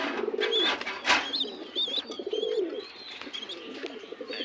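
Birmingham Roller pigeons coo in a loft while feeding a chick, with repeated low rolling coos close by and occasional higher chirps between them.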